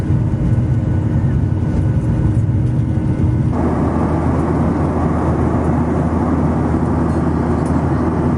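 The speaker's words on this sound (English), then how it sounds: "Here I am on my private plane to Warsaw, just me boarding today." Steady, loud engine and cabin drone heard from inside a private plane in flight to Warsaw. The roar continues without a break, and its tone shifts partway through, with no talking.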